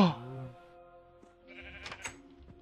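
Minecraft sheep bleat in a small in-game pen, a wavering bleat up front followed by softer, scattered game sounds and a few short bleats later on, quiet overall.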